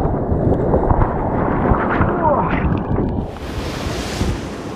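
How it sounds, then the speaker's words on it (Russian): Sea waves break and wash ashore on a busy Anapa beach, a continuous rushing surf with wind buffeting the microphone and a wave surging in near the end. "Волна, волна, вот она идет,"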